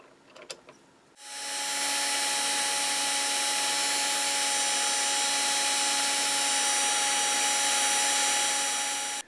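After a brief clatter, a power drill with a 2.5mm tapping drill bit starts boring through metal, running at a steady high-pitched whine for about eight seconds, close and loud, then stops.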